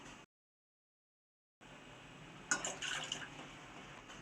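Water for a samba wheat payasam, about 300 grams in a pot, boils with a soft, steady bubbling and occasional brighter pops that start after a short silence and carry on alone.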